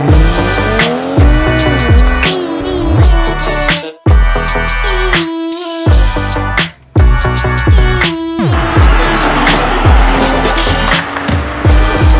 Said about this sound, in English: This week I'm driving the BMW M340i xDrive 2020.